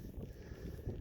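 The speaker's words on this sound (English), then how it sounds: "We have a cold wind blowing from the north." Steady low rumbling wind buffets the microphone, gusting a little stronger near the end, with no voices.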